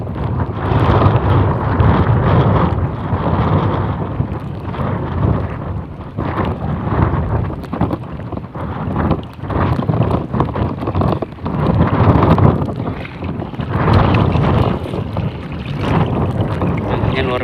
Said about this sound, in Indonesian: Anginnya luar biasa kenceng juga nih.